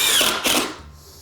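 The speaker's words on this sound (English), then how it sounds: "we'll put a screw every 12 to 16 inches just for posterity" A power drill drives a screw into drywall on a basement bulkhead in a house under renovation, a short loud whirring burst that dips briefly and then winds down.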